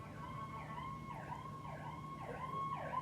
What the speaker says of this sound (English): Sirens out here.